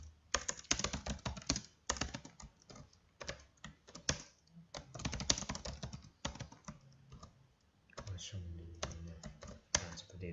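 Rapid typing on a computer keyboard while entering text in MS Word, irregular bursts of close, crisp key clicks with brief pauses, with a voice talking faintly underneath.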